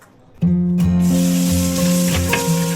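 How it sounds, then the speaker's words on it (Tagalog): Dishes washed under running water in a small home in Qatar: a loud, close hiss of the water stream begins abruptly and continues steadily, with faint clinks and tonal ringing from the plates. "next na gagawin natin is maghuhugas ng mga plato"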